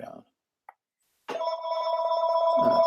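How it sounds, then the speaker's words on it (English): A telephone ringing indoors, a sustained electronic bell tone that starts abruptly after a short pause and keeps going, with speech heard briefly before it. "let me go on and mute all the stupid phones ringing."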